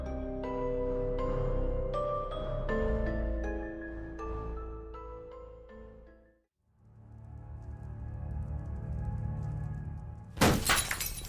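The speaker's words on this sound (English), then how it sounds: "This is lethal as glass rains down on you." Glass shatters as a sound effect in an audio drama: a long, loud cascade of breaking and tinkling shards, a brief near-silent gap, then a low rumbling swell ending in a sudden harsh burst of noise.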